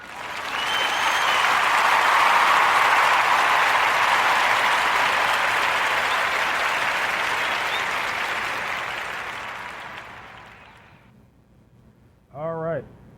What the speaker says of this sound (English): join me in giving our sister Cecily a warm Narrative Podcast round of applause for Cecily's Raw.